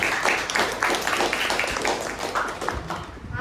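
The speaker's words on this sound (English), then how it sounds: "Let's give a big round of applause to all of them" A small group at a Toastmasters club meeting gives a round of applause, sparse and uneven clapping in a loose rhythm that comes through fairly faintly, with some speech mixed in.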